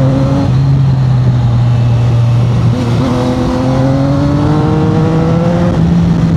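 A Triumph Tiger 800 adventure motorcycle engine drones loud and close while riding, holding a steady note that dips once and then slowly climbs in pitch as it pulls, with no voices.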